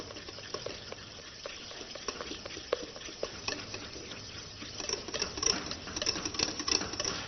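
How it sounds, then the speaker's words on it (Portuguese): A whisk beats a sugar mixture in a bowl, giving a steady close patter of rapid ticking strokes that grows a little louder and busier toward the end. "vou continuar misturando. Até dissolver por completo o açúcar."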